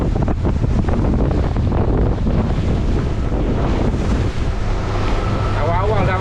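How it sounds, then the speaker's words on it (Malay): Strong wind buffets a small boat at sea in a loud, constant roar of wind on the microphone, mixed with rushing swell and splashing water. "Seperti yang diramalkan alun cukup kuat sebab angin agak kencang"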